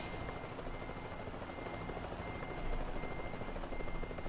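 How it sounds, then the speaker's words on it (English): A helicopter flies overhead in the American Truck Simulator video game, its steady rotor drone and broadband engine whir holding at a faint level and swelling slightly near the end, with no talk. "I can actually hear the helicopters"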